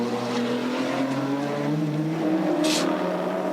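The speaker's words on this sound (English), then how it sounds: "So here is the race leader, hard on the heels of the Synovus Moffat entry, car 10." Touring race cars in the 1991 Bathurst race roar past, a loud, sustained engine howl with shifting pitch as the cars close in and pass, and a brief bright squeal near the end.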